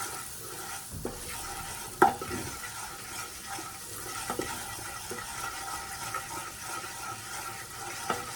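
Curried turkey neck with chili being stirred in a pot: a low sizzling bed under occasional spoon knocks and scrapes, one sharper clink early on, fairly quiet and without speech.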